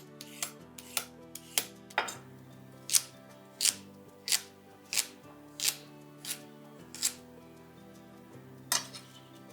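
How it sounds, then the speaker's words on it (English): A peeled carrot is rough chopped with a knife on a board: a close, steady run of about a dozen crisp, evenly spaced chops, with no talking. "then we're gonna rough chop the carrot"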